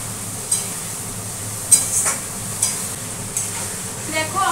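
Spice paste with chopped coriander leaves frying in a pan, steady soft sizzle under a few spatula scrapes and stirring knocks, no talk.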